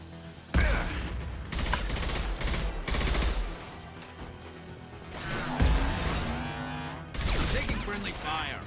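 Gunfire in Mass Effect 2 crackles in several bursts, with loud rapid volleys breaking out, pausing, then erupting again, mixed with game voices speaking over the combat.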